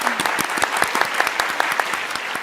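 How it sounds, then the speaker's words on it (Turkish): A television game-show studio audience applauds: steady, dense clapping with no break, close and even throughout. "Hadi Perihan Bey'e de alkışlar."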